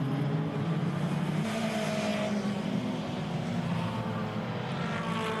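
Racing Rover 100s and Metros, including an older car from the Metro Turbo Championship, lap the track at Mallory with a steady, continuous engine drone and no clear pass-bys.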